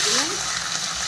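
Onion, tomato and green chilli fry in hot oil for paneer bhurji with a continuous close sizzle, while a voice briefly sounds at the start.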